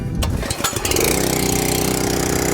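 A SuperHandy 20-ton log splitter's small gas engine is pull-started with the choke on, a couple of quick rope-pull rasps, then it catches and runs at a loud, steady idle nearby.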